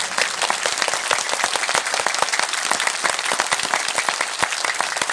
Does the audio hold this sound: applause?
yes